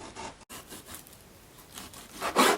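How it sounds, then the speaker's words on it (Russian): A knife cutting pork for homemade boiled sausage in a village kitchen: quiet, repeated rasping strokes against the meat and board, growing louder in a final harsher cut. "Режем мясо."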